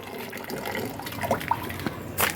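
Humic acid liquid fertilizer is poured into about ten litres of water, making faint, close trickling and dripping splashes spread across a couple of seconds with a small splash near the end.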